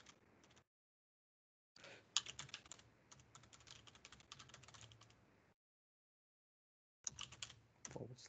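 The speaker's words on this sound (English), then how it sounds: "all you're going to hear is my clicking of my keyboard" Typing and clicking on a computer keyboard, close and quiet, in short bursts of rapid key taps separated by stretches of silence.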